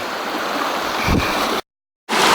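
Creek water rushing steadily over rocks at a ford on a forest trail in Elk State Forest, Pennsylvania, a continuous broadband wash heard up close, briefly cut to silence before resuming.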